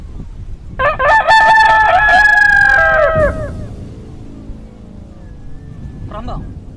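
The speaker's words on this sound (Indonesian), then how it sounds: "Kalian dengar ayam ini berkokok?" A rooster crows once, loud and close with a long drawn-out call, then fades into quiet outdoor background with a faint voice near the end.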